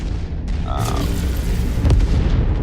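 A destroyed enemy target explodes in the MechWarrior 5 Mercenaries video game, a deep rumbling boom with a sharp burst near the end, heavy and close over steady low battle noise.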